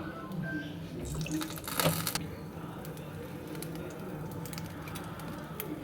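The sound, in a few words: pouring oil into a frying pan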